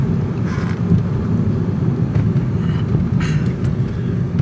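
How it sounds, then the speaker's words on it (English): An E90 BMW rolls slowly over a speed bump, its engine and road noise forming a steady loud rumble with a few brief thumps from the suspension. "Going to go over the speed bump, stop again"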